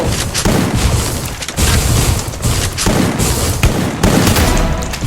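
Dense, loud gunfire from the Free Fire battle game, repeated booming shots and rapid bursts filling the whole stretch with little pause and no talk.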